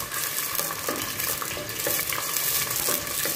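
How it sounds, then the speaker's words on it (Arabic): Chopped onion sautés in oil in a pot with a dense, continuous crackling sizzle, loud and close, with faint stirring knocks under the steady hiss. "حطيت هكا شوية زيت باش كامل نحط البصل نتاعنا باش نذبلو شوية"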